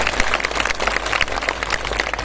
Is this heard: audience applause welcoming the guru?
yes